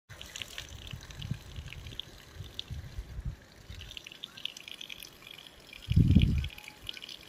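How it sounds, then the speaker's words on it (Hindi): Mountain spring water in the hills near Shimla, Himachal, trickles and gurgles close by at a modest level, with a brief, louder splashing burst near the end. "बहुत अच्छा पानी होता है मीठा पानी होता है पहाड़ों का पानी होता है"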